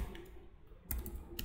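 Keys clatter on a computer keyboard during HTML and CSS coding, a few sharp clicks in quick bursts, close and fairly quiet, with no talk.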